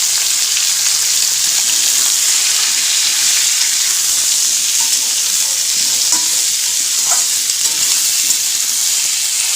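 Boiled jackfruit frying in hot oil as it is stirred, a steady loud sizzle with faint scraping of the stirring utensil, continuous and close with no talk.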